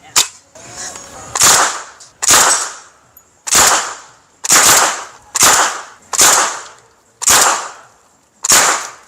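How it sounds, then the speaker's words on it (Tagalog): A grease gun submachine gun fires .45 ACP rounds in eight loud, sharp single shots at roughly one-second intervals, each crack trailing off in a short decay, with no talking. "susubok tayo ng 45 ACP. Gagamit tayo nitong grease gun."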